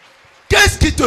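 A church congregation bursts into loud, raucous acclaim for Jesus, with three swelling waves of cheering and shouting after a brief near-silence.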